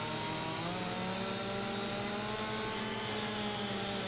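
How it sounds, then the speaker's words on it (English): A small chainsaw cuts trees in the Farming Simulator 25 video game, its engine running in a steady, buzzing drone at moderate level throughout, with no talking. "It's amazing really how this this little chainsaw that does so much work."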